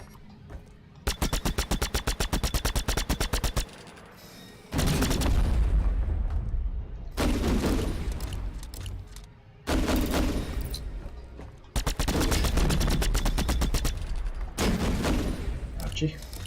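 Bandit turret gunfire in The Signal From Tolva: loud bursts of rapid automatic fire alternate with heavy booming impacts in repeated waves, with brief gaps between volleys.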